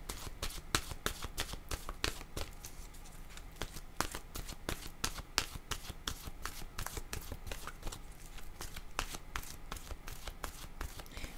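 Oracle cards are shuffled by hand for a card reading, giving a rapid, continuous run of soft riffling slaps and flicks, close and fairly quiet, with no talking.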